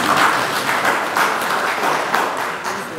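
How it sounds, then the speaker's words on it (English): An audience at a meeting of Manicaland provincial government heads claps in a sustained round of applause, loud and close, dense hand claps without talk. "I thought you were going to clap hands for that."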